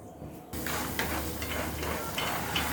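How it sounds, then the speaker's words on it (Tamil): Raw peanuts fry in hot oil held in a ladle while making poha mixture, a steady crackling sizzle that starts abruptly after a quiet moment and continues with scattered pops. "பச்சை கடலையை வந்து நம்ம எண்ணெயில் போட்டு வறுத்து எடுத்துக்கலாம்."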